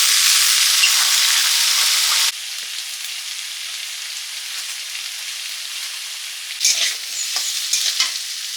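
Magur fish head curry with eggplant and potato frying in a pan, a loud sizzle with stirring at first, then a quieter simmering hiss broken by a few scrapes of the spatula.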